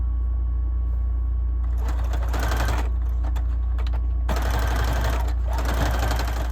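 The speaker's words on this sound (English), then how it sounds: "we're just doing the zigzag stitch again" A sewing machine running a zigzag stitch on white fabric for a flowy boho tunic, in two bursts of fast rattling stitching over a steady low motor hum.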